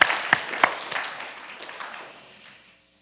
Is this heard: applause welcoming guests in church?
yes